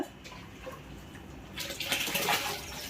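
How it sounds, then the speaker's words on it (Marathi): Hot water is poured into a dal mixture for dal phal in a home kitchen: a quiet, brief splashing gush starts midway and runs about a second and a half. "हे गरम केलेलं पाणी"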